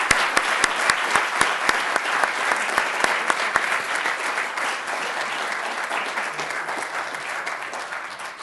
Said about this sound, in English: Could we please give our panelists a round of applause?